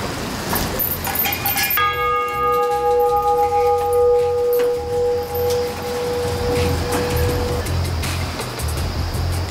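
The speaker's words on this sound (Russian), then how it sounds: "Давайте-ка подзынькаем в колокольчик." A small temple bell at a Ganesha shrine in India is struck once and rings out clearly, its bright tone lingering and fading over several seconds above a low rumble of passing traffic.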